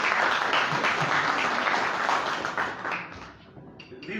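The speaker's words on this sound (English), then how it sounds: "I want you people to clap for the Katikkiro" An audience at a formal gathering honouring the Katikkiro applauds with dense, sustained clapping that fades slightly toward the end.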